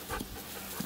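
A trained show dog pants in short, soft breaths. The panting is quiet and brief, with no talk over it.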